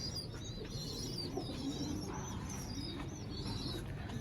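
Pigeons in a home loft cooing softly, with repeated low coos and a few chirps over faint steady background hiss, quiet and fairly close, no talking.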